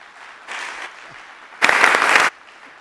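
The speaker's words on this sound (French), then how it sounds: "Est-ce qu'on peut acclamer Dieu pour ça?" A church congregation breaks into applause and cheering to acclaim God, a brief soft clatter of clapping followed by a louder, fuller burst of handclaps lasting under a second, with no talk over it.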